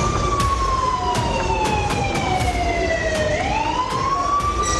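A civil-defence air-raid siren sounds during a mock security drill, its loud wailing tone sliding slowly down and then rising again, steady and continuous with no talk.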